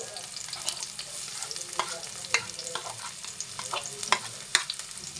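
Garlic frying in a pan, a continuous hiss of hot oil broken by frequent scraping stirs and light clacks of the utensil against the pan, close and without talk.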